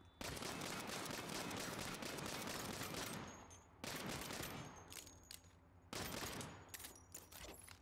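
Dense automatic gunfire in the video game Saints Row, a long sustained burst that breaks off briefly and then resumes in two more loud bursts.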